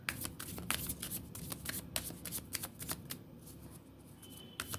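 Tarot cards are shuffled close up in a quiet room, giving a quick run of soft, papery riffles and slaps in irregular bursts.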